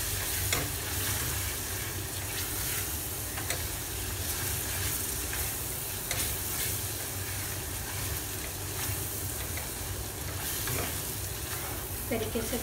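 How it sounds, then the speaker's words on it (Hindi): Onion and tomato masala with salt frying in oil in a pressure cooker for Mumbai-style misal pav, giving off a steady, dense sizzle with faint stirring scrapes throughout. "इसको अच्छे से भून लेंगे।"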